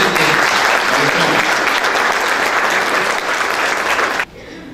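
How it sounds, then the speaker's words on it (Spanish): Thick, loud applause from an award ceremony audience at Los Mejores del Perú 2013, a continuous roar of many clapping hands that cuts off sharply near the end, leaving faint room noise. "Fuerte los aplausos para él."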